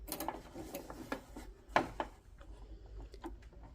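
A Brother LX3817 home sewing machine stitches a buttonhole through fabric in short, quiet mechanical bursts of clicking and whirring, close up, with a brief louder clack partway through.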